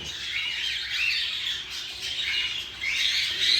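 Heavy pied pearl pied birds squawk and chatter together in a steady, loud flock, a near and continuous harsh chorus.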